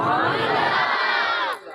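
A large crowd at a religious gathering shouts Subhan Allah in unison as a response, loud and sustained for about a second and a half before cutting off abruptly.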